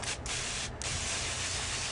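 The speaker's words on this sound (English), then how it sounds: "So here you can see I'm just spraying the plants down." Homemade insecticidal soap spray misted onto plants from a hand sprayer, a close, loud hiss broken by two brief pauses between squeezes.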